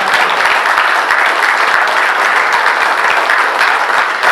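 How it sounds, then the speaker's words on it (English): Sustained applause from a crowd at a 50th anniversary reunion for a 1976 two-mile relay, steady and loud clapping that continues without pause throughout. "I think we should give Bob a long round of applause."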